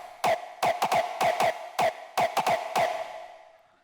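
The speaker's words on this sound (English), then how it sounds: "It's like this this classic hardstyle distorted kick." A classic hardstyle distorted kick sample hits about a dozen times in an uneven pattern. Each punchy, tonal hit is loud and close, and the last one rings out and fades with no talk.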